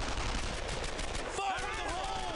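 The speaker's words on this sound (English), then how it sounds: "Covering fire!" Gunfire from the World War II shooter Brothers in Arms crackles in a dense, continuous run of shots, and a voice shouts over the end of the burst.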